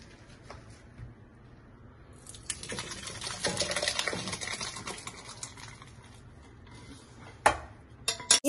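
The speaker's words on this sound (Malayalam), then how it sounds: "തീ ഓഫ് ആക്കി ഇനി നമ്മളിതാ ഈ പാത്രത്തിലേക്ക് ഒഴിക്കുകയാണ്." Spinach curry being poured from a pan into a serving vessel after the heat is switched off, heard as a steady liquid pour of a few seconds followed by brief clinks of the pan against the dish.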